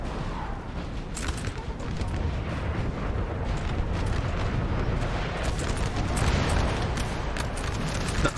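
Artillery fire in Napoleon Total War during a 4v4 French corps attack at Friedland, a dense continuous rumble of booms and crackling blasts layered under someone talking throughout.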